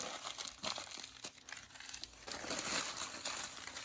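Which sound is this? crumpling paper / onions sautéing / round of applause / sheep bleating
crumpling paper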